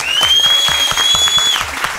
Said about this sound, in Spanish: Aplauso para Gwen.